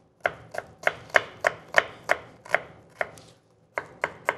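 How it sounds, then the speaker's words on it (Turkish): A small onion is diced with a knife on a cutting board. The blade makes crisp, regular taps at a steady, fast rhythm, with a brief pause before a final few cuts. "Ufak ufak soğanımızı doğrayacağız."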